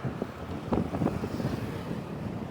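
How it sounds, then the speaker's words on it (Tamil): Strong gusting wind batters the microphone at Pamban bridge near Rameswaram, with a passing train buried in the roar. Uneven bursts of buffeting rise and fall over a steady low rumble. "அஞ்சு மணிக்கு காற்று எவ்வளோ வேகம் இருக்குதுன்னு பார்த்தீங்களா"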